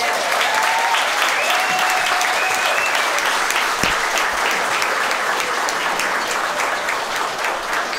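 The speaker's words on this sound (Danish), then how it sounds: "skal vi klappe af hende?" Party guests applauding at a 50th birthday celebration, loud sustained clapping from a room full of people, dense and continuous, with a few faint voices and whistles mixed in.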